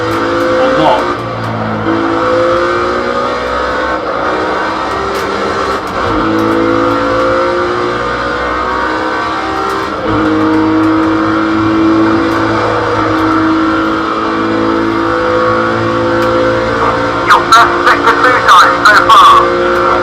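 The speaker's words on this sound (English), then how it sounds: "you enjoy the sound of this amazing car" A Group C race car engine in Project Cars 2 drones and revs continuously with shifting pitch, tires squealing briefly near the end; a synthetic game engine sound, no speech heard.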